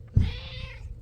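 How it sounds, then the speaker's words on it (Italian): A kitten gives a single short, slightly hoarse meow, close and clear, recorded inside a camper in Portugal, with quiet surroundings and no talking. "il miagolino che miagola sempre, questo È gattino. un po' rauco"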